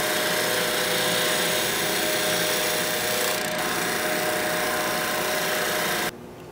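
A wood lathe runs steadily while a skew chisel cuts a spinning workpiece, giving a loud, continuous whirring hum with cutting noise, until the sound drops sharply near the end.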